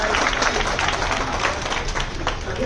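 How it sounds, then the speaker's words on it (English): Group applause at an office fire-safety training after a fire-drill demonstration, a dense, continuous burst of close clapping with faint voices mixed in. "give them a big round of applause"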